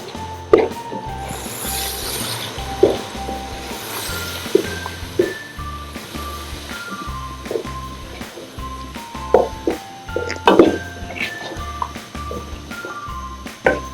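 A spoon stirs coriander, cumin, turmeric, chili powder, salt and water in a cooking pan for potato and pea curry, making repeated soft squishy scrapes and occasional metallic clinks in an irregular rhythm.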